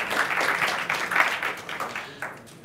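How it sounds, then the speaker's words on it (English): A conference audience gives brief applause to welcome a speaker presenting a Python IDE, a short burst of scattered clapping that tapers off within a few seconds. "give a round of applause to Martin"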